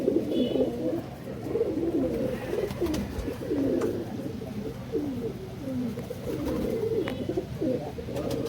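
Pigeons eating scattered grain coo in soft, repeated low rolling phrases, several birds close by and continuous throughout, with faint background hum and no talk.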